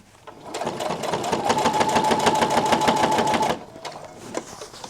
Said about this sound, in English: this is such an exciting thing, me getting my sewing machine out